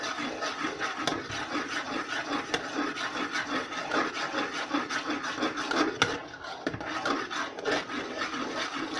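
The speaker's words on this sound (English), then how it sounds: "So we've been stirring it fairly constantly." Chocolate pie filling is stirred steadily as it thickens, a continuous close scraping and rubbing of a spoon against the pot with a slight rhythmic pulse and no talk.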